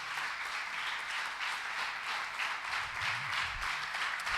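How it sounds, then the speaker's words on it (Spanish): A church congregation claps in praise during a Spanish-language service, a sustained wash of applause at moderate distance, with a faint low voice briefly surfacing near the end. "Dale un aplauso al Señor, aleluya."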